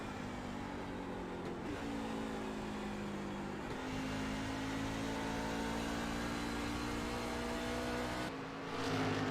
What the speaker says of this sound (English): So almost sounds like Lee kills power to the truck.